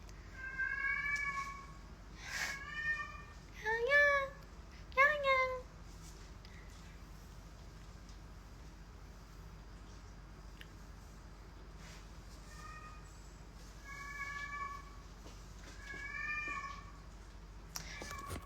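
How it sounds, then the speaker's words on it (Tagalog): A cat meows repeatedly and close by, several drawn-out calls clustered early and again near the end, with quiet room tone between them. "That's my cat."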